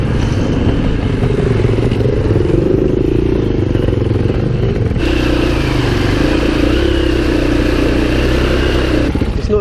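Trail motorcycle engine running steadily and loud throughout on a green lane in Devon, a continuous buzzing drone that rises in pitch and intensity about halfway through, with some clatter and scrape over it.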